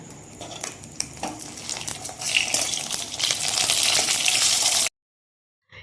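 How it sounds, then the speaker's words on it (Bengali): Fish, green chillies, tomato, onion and ivy gourd sizzle and crackle in hot oil, with a few clinks of a utensil, the frying growing louder before cutting to silence. "কাঁচা লঙ্কা টমেটো পেঁয়াজ কুঁদরি সমস্ত কিছু একসঙ্গে আমি তেলে দিয়ে দেবো"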